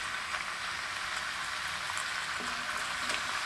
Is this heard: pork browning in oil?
yes